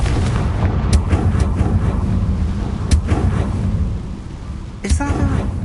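A Confringo fire spell blast in Hogwarts Legacy, a sharp burst near the end over a steady rumbling game backdrop, with a few fainter cracks earlier.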